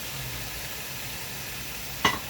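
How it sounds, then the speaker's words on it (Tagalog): Steady low sizzle of a chicken sinigang soup pot as papaya pieces go in, ending in a sharp clatter near the close, with no talk. "Ibuhos natin ang ating papaya."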